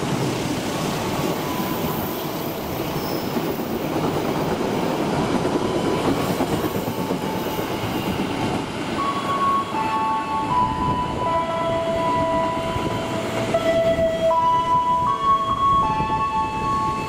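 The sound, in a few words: Dharma Wangsa train passing at high speed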